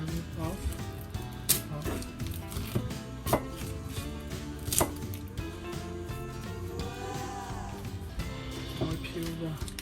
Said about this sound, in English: Okay, we cut the onion.